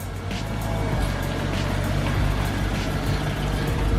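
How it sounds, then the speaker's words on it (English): A Mercedes-Benz E55 with a naturally aspirated V6 idles and rumbles through its exhaust, a steady, close low drone with no clear revving. "These old naturally aspirated V6s, they sound glorious."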